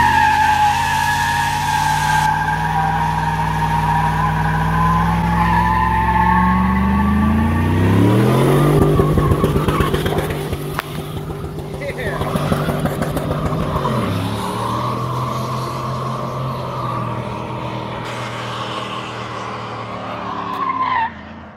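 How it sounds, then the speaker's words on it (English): A shop truck does a long burnout, its engine revving up hard into a sustained, loud tire squeal and skid that holds for several seconds before the revs drop and the engine settles back into a steady roar. "Quarter mile fucking long burnout."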